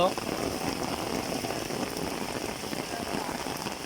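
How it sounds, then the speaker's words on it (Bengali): Steady rain falling on surfaces in a village by a swollen river, a dense, even hiss of drops continuing throughout, with faint voices in the background. "খুব সুন্দর একটি বৃষ্টির দৃশ্য।"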